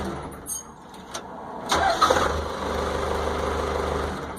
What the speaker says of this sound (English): That's the way it used to crank when I first got it. Barely an effort.